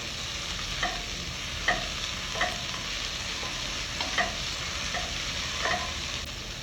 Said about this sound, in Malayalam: വീണ്ടും സോട്ട് ചെയ്യുക.